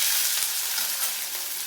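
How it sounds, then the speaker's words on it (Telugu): Chopped onions and green chillies hit hot oil for a mushroom curry, setting off a loud, continuous frying sizzle that stays close and steady without any talk. "ఇప్పుడు ఉల్లిపాయలు, పచ్చిమిరపకాయలు వేసేయాలి"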